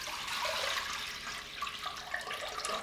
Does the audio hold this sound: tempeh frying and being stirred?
no